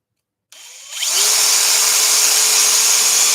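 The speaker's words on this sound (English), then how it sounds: "So I'm going to drill in there." A power drill starts up and bores into wood for a scroll-saw castle, its high whine rising after a brief spin-up and then holding steady, close and loud.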